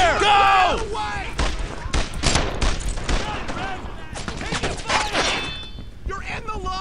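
Rapid bursts of gunfire fill a World War II squad shooter, Brothers in Arms: Earned in Blood, as loud overlapping shots and thuds crack out continuously with shouted voices mixed in.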